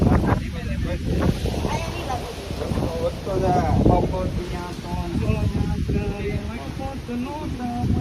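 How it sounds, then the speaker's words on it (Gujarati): Strong wind on Sana Dungar hill buffets the microphone in a constant low roar while people talk over it. "પવન પણ બહુ છે હો"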